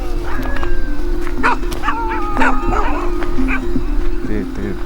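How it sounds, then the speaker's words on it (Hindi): A dog in Pune city barks, yips and whimpers repeatedly at close range, with people talking over the barking. "ये अपने ऊपर भौंक रहा है?"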